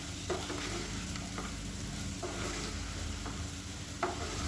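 Raw banana slices for a fry are stirred in a pan over medium heat, giving a steady low sizzle with occasional scraping spoon strokes, alone with no voices.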